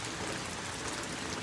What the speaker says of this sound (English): If it continue raining, we'll just keep the umbrella.